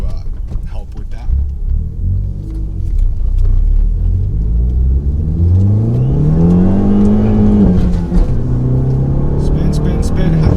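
A tuned, turbocharged Fiat 500 Abarth revs hard with its wheels spinning, the engine note climbing and holding loud and close for several seconds as a voice talks over it.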